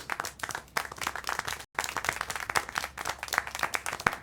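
Hands clap steadily and densely in the video game Syberia 4, a continuous burst of clapping with a brief cut in the middle before resuming just as strongly.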